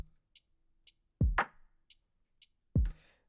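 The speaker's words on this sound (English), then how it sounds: "So, as you know, the drums sound like this." Filtered, muffled drums from a song: two deep thumping kick-and-snare hits about a second and a half apart, with faint ticking hi-hat clicks between them, quiet and sparse with no talking.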